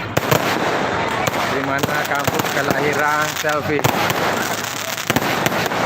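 New Year's Eve fireworks in Soppeng Regency burst and crackle loudly in dense, continuous volleys, with a person speaking over the din.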